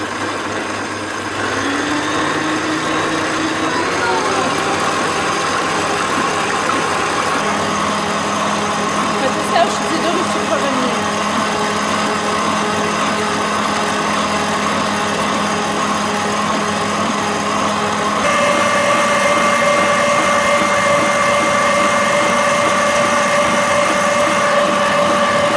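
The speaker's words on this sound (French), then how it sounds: "Et maintenant, je vais augmenter la vitesse du robot." A stand mixer beats birthday cake batter with a continuous whirring motor drone that steps up to a higher, louder pitch as the speed is raised, close and unbroken throughout.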